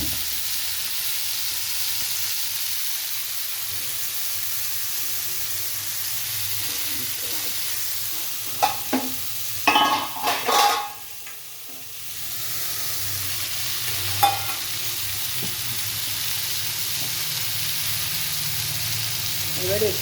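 Spices sauté in a pan for a vegetable curry, a soft steady sizzle and hiss broken by a few stirring clatters midway, with faint background voices.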